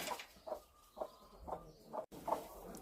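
Chickens cluck in short, regularly spaced bursts about every half second, fairly quiet and close by, with no voices.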